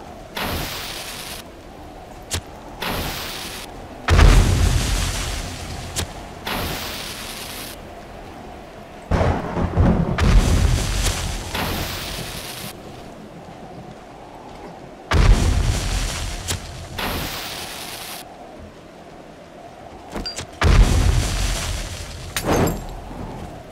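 Grenade explosions go off during a video game boss fight against Oblivian: four heavy, booming blasts spaced several seconds apart, each rolling into a rumbling decay over a steady low background.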